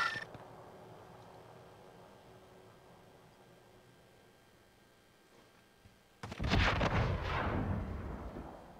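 Gunfire in a military shooter game: after six seconds of quiet rumble, a dense, loud burst of rapid shots and blasts erupts and continues to the end.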